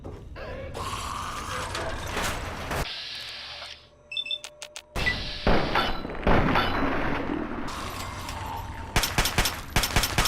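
Rapid automatic gunfire in Fallout 3 rattles in uneven bursts with an inconsistent fire rate, separated by brief pauses and mechanical clicks, with no talking over it.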